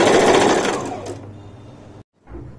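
A sewing machine runs in a fast, loud, continuous whir while stitching a kaftan, gradually slowing and fading, stopping abruptly, then giving a short restart.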